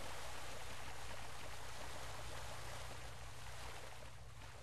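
Rushing water in a video game, a loud, steady broadband roar that fills the whole stretch without a break and eases slightly toward the end.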